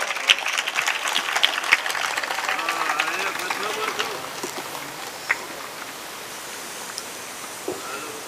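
An audience at a live Shiv Mahapuran katha gathering claps steadily, a loud dense patter that thins out toward the end, with a voice speaking over it.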